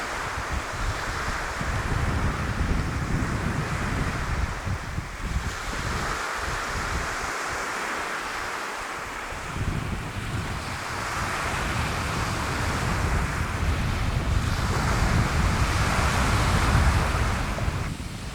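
Waves washing onto a beach on the Sea of Cortez near a seasonal fish camp, a steady roar of surf with wind buffeting the microphone, no voices.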